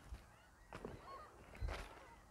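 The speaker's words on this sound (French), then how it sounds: "Il y a plein d'oiseaux bien proches." Honking birds, goose-like calls from nearby in a video game, a few short, separate honks spread over a couple of seconds against a quiet background.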